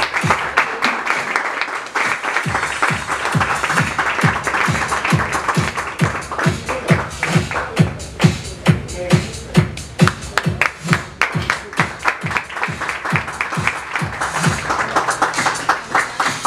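A crowd at a pageant presentation of Niña Escuintla 2016 candidates gives sustained, loud applause that settles into rhythmic, unison clapping, with faint voices mixed in.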